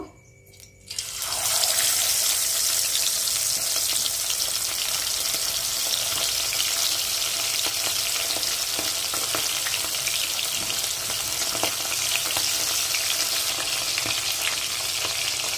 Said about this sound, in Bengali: তেল আমার গরম হয়ে গেছে। এইবারে আমি মাছগুলো আস্তে আস্তে ছেড়ে দেব।